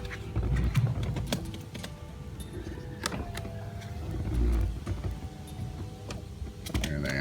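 Electric motors whir as the windows of a 2006 Mercedes-Benz SL500 Roadster lower, a low steady hum with faint clicks inside the car, no voices.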